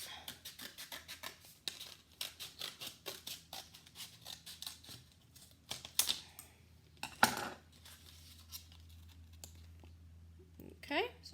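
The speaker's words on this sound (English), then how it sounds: "Fold it, find that inner ring, and just cut around it." Scissors snip through a folded paper plate in a rapid series of crisp cuts, pausing briefly then resuming, close and fairly quiet.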